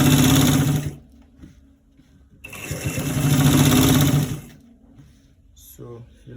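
Sewing machine stitching a roll-neck collar runs in two loud bursts of about a second and two seconds, separated by quieter pauses, with faint handling noise and a short mechanical sound near the end.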